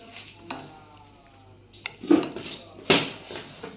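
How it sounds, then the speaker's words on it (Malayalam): Utensil scraping and clinking in a bowl as curd is stirred into a salad with salt, a few short sharp knocks and scrapes close by, no talking. "ഇതിന് നമുക്ക് നന്നായിട്ട് ഇളക്കാം."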